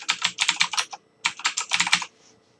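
Two quick bursts of typing on a computer keyboard while entering a password during a Windows Server 2012 R2 Active Directory setup, rapid close key clicks with a short pause between, no talking.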